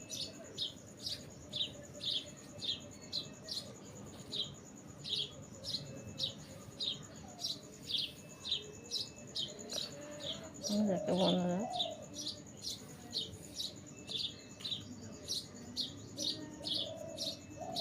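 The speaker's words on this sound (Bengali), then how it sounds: "এই টগর গাছে পাখিগুলো কি সুন্দর ডাকছে দেখো বন্ধুরা" Small birds chirp from a tagar tree in the morning, short bright calls repeating in a steady, even rhythm throughout at moderate distance, with a person briefly speaking partway through.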